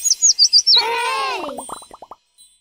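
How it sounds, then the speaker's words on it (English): A cartoon bird chirps in a quick run of high, clear tweets at the start, followed by bouncy sound effects and a series of short plopping notes, set in a children's animated show. "Bird, tweet, tweet, tweet."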